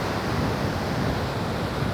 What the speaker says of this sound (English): It's a nice big series of waves.